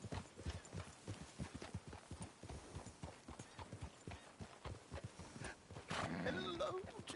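Steady clip-clop of horse hooves at a walking pace in Red Dead Redemption 2, close and continuous, with voices talking over it and a louder burst near the end.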